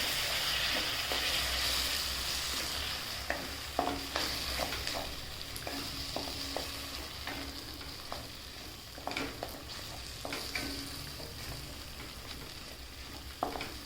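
Ground tomato paste sautéing in a pan with turmeric, a steady sizzle with irregular scraping and stirring clatter from a spoon against the pan, close and continuous with no talking.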